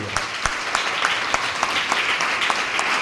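A training-session audience at Digha breaks into loud applause, dense clapping with a few sharp individual claps standing out near the front, sustained and even throughout.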